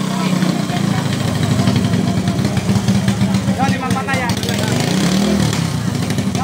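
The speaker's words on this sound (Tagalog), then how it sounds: "Andar pa lang ng makina ay galit na galit." A racing boat engine roars steadily and loud throughout a Bancathon race, a rough, dense motor drone with a voice commentating over it.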